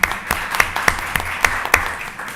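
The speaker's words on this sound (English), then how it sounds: "if we can do our little clap or something" At a school board meeting, a small group claps in a brief, sparse burst of around nine distinct, fairly evenly spaced claps heard close in a quiet room.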